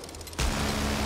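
Friendly gunfire during a Back 4 Blood match, a sudden loud burst of rapid shots that breaks in after a brief quieter moment and keeps rattling without a pause.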